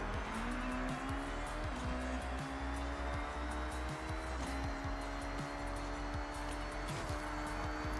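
Race car engine in the Forza Horizon video game, a Honda Element fitted with a Lotus Exige K24 engine, droning steadily loud with rising and shifting engine tones and occasional tire squeal throughout.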